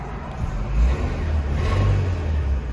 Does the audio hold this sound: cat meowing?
no